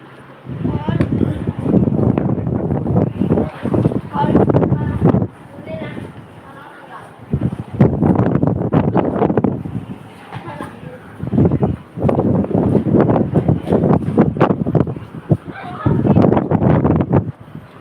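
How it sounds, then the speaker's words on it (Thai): Strong seaside wind beats against the microphone in loud, rumbling gusts that come and go repeatedly. Someone speaks over the buffeting. "ลมแรงหน่อยนะคะทุกคน"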